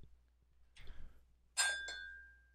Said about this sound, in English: Oops, that was my glass.